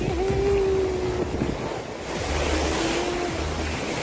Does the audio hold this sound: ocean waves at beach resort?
yes